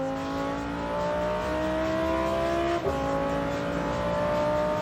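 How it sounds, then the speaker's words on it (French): A Lamborghini Huracán STO accelerates hard, its engine note rising steadily through the revs with a brief shift blip near the end, loud and continuous with no talk. "Allez, on débraque, on accélère."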